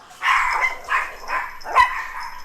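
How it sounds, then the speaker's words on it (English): A dog gives four short, muffled barks and yips, close by and somewhat spaced apart, with no voices over them. "She just barks"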